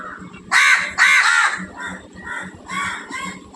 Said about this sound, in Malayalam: അപ്പോൾ കാക്കകൾ ഇവിടെ നോട്ടം ഇട്ടിട്ടുണ്ട്.